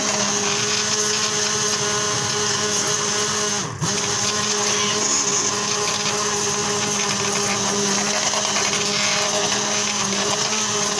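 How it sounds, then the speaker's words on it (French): Hand-held immersion blender whirring steadily through an organic vegetable-peel soup, a loud continuous motor drone with a brief dip partway, close up and without talk. "on va le passer tout de suite maintenant au mixeur à main"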